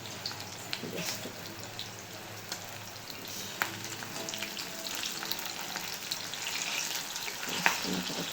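Pakoras frying in hot oil, a steady broadband sizzle running throughout with occasional sharper pops and crackles, fairly close and alone with no talk.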